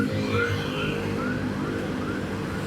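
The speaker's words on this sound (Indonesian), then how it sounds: "Ternyata pemadam, gue kira ambulan. Suaranya hampir mirip." A fire engine's wailing siren rises and falls continuously over low engine rumble, fairly close, heard from a motorcycle in traffic, with no talking.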